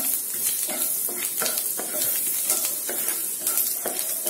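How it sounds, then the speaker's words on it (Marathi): Finely chopped garlic fries in butter in a pan, a loud continuous sizzle broken by repeated scraping stirs of a spoon, with no talk. "आपण बारीक चिरलेला लसूण टाकून घेऊ. लसूण छान ब्राऊन होईपर्यंत याला शिजवायचं."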